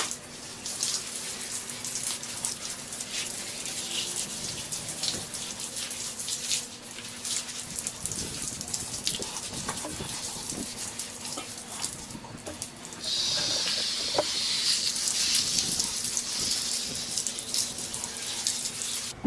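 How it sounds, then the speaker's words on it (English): Running water splashes steadily as a frame is rinsed and scrubbed with a sponge, a continuous hiss that grows louder and brighter toward the end, with scattered scrubbing and clatter noises. "you saw me clean it with water and a little scrubbing sponge"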